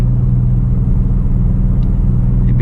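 Steady low engine drone from a 2017 Ford Mustang with an aftermarket muffler, a loud constant rumble heard from inside the car while cruising, with no clear rev rise.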